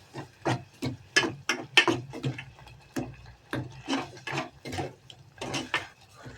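A spoon stirs half a cup of milk and sugar in a pan until the sugar dissolves, giving rhythmic scraping and clinking strokes, steady and fairly close, with no voices.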